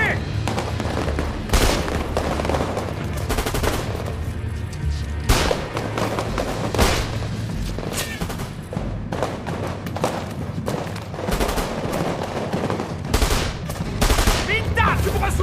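Dense gunfire and machine gun bursts in a French-language war film, with repeated loud shots and thuds throughout, and voices shouting over the battle.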